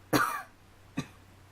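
Two coughs from a person with a throat made rough by recent illness, a longer harsh one followed about a second later by a short, fainter one, close to the mic with no talk.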